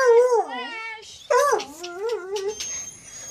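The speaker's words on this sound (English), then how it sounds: "Puppy. Here's the dog." A puppy whimpers and howls in two close bursts of high, wavering, sliding cries, with a fainter whine trailing off at the end.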